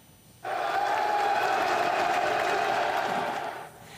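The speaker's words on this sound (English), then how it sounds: "There was a burst of applause as the Pope arrived." A loud burst of applause from a crowd as Pope Francis, 88, arrives at a Roman prison, starting abruptly, holding steady for about three seconds and then tapering off, with no talk over it.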